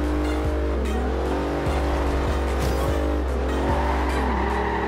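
Race cars including a Ferrari roaring through Forza Horizon 2, a loud steady engine drone with gear-shift dips and brief tire squeals throughout.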